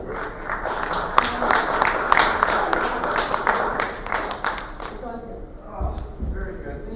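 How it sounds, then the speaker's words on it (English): An audience claps steadily for a speaker being welcomed at a business management talk, with dense sustained applause that fades out near the end. "please welcome him with a huge round of applause"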